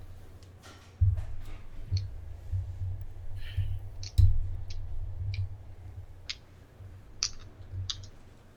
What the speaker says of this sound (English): just type at the same time I'm talking here